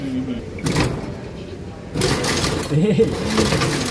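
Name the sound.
rapier weaving loom running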